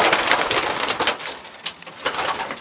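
Boden Tippler pigeons move about a stock pen. Wings rustle, feathers flap and scratchy noises fill the space nearby, with faint cooing, and no one speaks.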